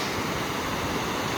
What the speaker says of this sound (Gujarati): ધોધ મસ્ત પડી.